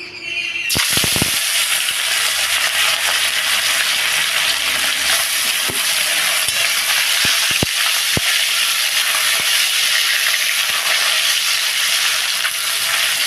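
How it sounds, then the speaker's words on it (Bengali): Small fish shallow-frying lightly in hot oil in a pan, a loud, steady, close sizzle that runs without a break, with a few sharp pops and crackles scattered through it. "এবার এটাকে ভাজবো। মাছগুলোকে ভাজবো।"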